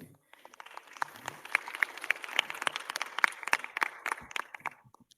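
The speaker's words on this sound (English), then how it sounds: "So let's give it an applause to Jane." Scattered applause from a small audience greeting a virtual speaker, Jane, at a data ethics talk: a thin patter of separate claps building over a few seconds, fairly faint and sparse, with a little crowd murmur.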